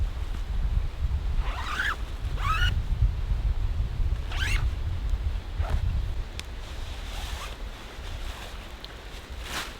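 The zipper on a UGQ Outlaw hybrid quilt is pulled open in several short, crisp zipping strokes over a quiet background, with no one speaking.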